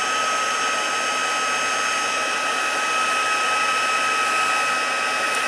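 A heat tool blows steadily to melt embossing powder on a card, giving a continuous close, even whooshing hiss with a faint whine that stays constant throughout without pauses or talk.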